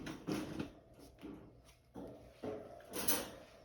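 A dog crate door swings shut and latches: a few knocking, rattling clunks of the door and lock, close and fairly quiet, spaced across a few seconds.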